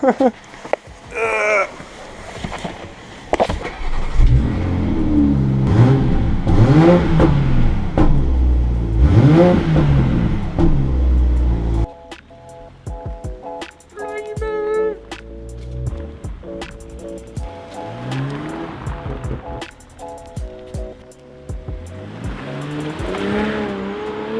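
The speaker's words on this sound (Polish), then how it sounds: "Kluczyk do Toyoty Supry, włazimy, odpalamy." A Toyota Supra starts up and its engine revs in repeated rising and falling bursts, loud and close, then settles into a rough idle with quieter blips, and people speak briefly in between.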